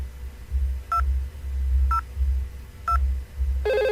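A VoIP IP phone dials extension 202 from extension 201: three short electronic tones spaced about a second apart, followed by a brighter ringback tone, all over a steady low hum.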